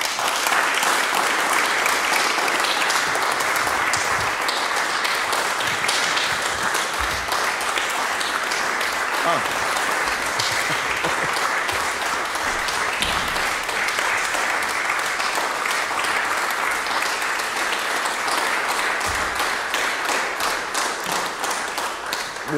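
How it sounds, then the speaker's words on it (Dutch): Steady, loud applause from a large audience at an outdoor classical music concert, continuous and even throughout with no pause. "Mag ik een hartelijk applaus voor Olivier Thierry."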